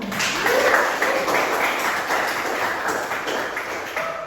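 Students clap together in a classroom, a fairly brisk and close burst of many hands with some tapping, irregular knocks on top, keeping up steadily for about four seconds before thinning slightly.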